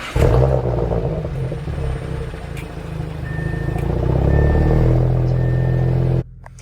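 A warm Audi engine starts up, settling into a steady low idle rumble with a faint recurring electronic chime over it, close and loud before cutting off abruptly.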